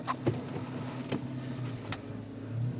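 A car with 80-series axles and an 11ZTE engine pulls away in Yakutia, giving a steady low engine rumble with a few faint knocks. The rumble continues throughout at moderate, close level, with no talk.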